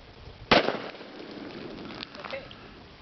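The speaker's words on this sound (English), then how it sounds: "You still shot low, Bubba." A single loud .45 ACP pistol shot fired outdoors into a row of milk jugs cracks sharply near the start, then fades into a soft spatter and splash with faint ambient noise.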